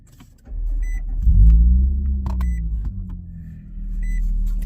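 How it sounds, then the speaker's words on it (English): A 2024 Nissan Frontier with a custom equal-length exhaust idles steadily, its low rumble swelling briefly as it revs, then settling into an even drone with a few faint beeps in the background. "Pick up the sound of the exhaust that I just did."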